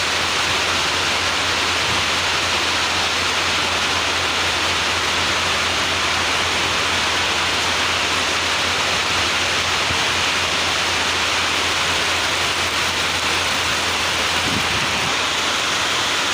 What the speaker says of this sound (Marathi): लय जोरात पाऊस चालू आहे नांदेडला सध्या